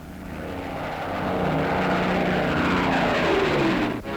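World War II bomber planes loaded with 12,000-pound bombs climb away, a loud, continuous droning roar of propeller aircraft engines that builds early and holds steady, with no talking.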